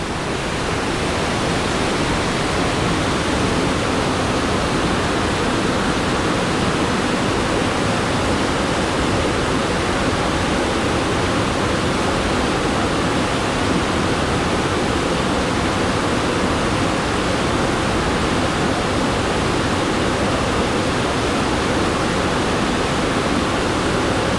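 A forest waterfall roars in a dense, steady rush of falling water, loud and close, unbroken for the whole stretch with no voices.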